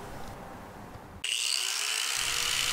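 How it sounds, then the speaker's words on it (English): A power tool starts to cut car body metal to make a hole for a frenched antenna, a broad rumble giving way to a loud, steady high-pitched whine that stays close and continuous. "I'm going to cut just shy of our marked line for our new antenna hole."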